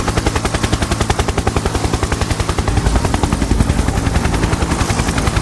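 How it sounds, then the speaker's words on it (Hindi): A cartoon helicopter thunders overhead with loud, rapid, even rotor chops that hold steady throughout, alone with no talk. "तभी अचानक मिस्टर मीट को ऊपर से हेलीकॉप्टर की आवाज सुनाई देती है"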